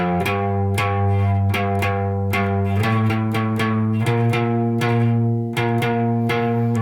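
Electric guitar plays a repeating riff with notes ringing into each other, sustained and smeared with no clean gaps between them.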